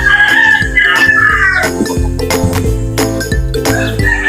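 Native chickens kept near a house, with a rooster crowing loudly and close, a long drawn-out call followed by clucking and bird chatter from the flock.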